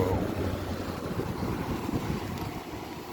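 A Galaxy Wind Machine model 3521 fan runs on its low speed setting, producing a steady, close, airy whoosh with a faint rough texture and no break throughout.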